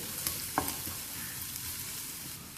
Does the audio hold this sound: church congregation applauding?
no